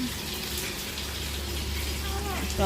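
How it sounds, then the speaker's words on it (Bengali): Gourd peels, chopped potatoes and other vegetables rinsed under a running kitchen tap, a steady close gush of water lasting throughout with a brief louder splash at the end. "তো জল দিয়ে সবগুলো ধুয়ে নিচ্ছি"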